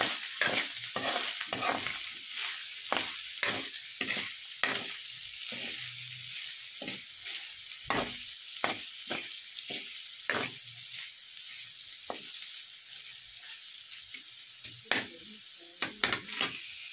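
Grated corn fries in a pan with a soft, constant sizzle, broken by repeated close scraping strokes of a utensil stirring it in an uneven rhythm.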